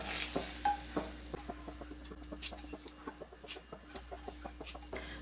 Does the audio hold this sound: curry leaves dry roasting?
yes